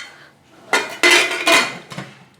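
A metal pressure cooker lid is set on and closed in a kitchen, a few close, loud metallic clanks and scrapes over about a second, with no talking.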